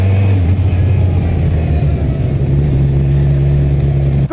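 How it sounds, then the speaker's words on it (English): A 2020 Kawasaki Z1000 base model motorcycle engine drones loud and steady under smooth throttle, a continuous low rumble with no speech over it. "very smooth throttle. I love the throttling on the Zs besides the 650."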